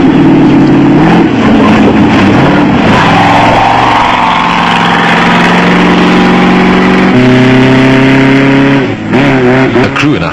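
Raceco off-road race cars at the 1995 Barberspan off-road race in South Africa scream past with loud, revving engines shifting pitch as they accelerate, with a commentator talking over the noise.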